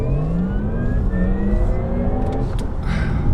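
A car launching hard under launch control, its engine note rising steadily as it accelerates, loud and close with no talking over it.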